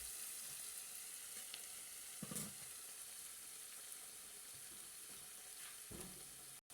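Onion fries in a pan for gravy, a faint, steady sizzle running throughout, broken by a couple of brief stirring scrapes, with no one talking.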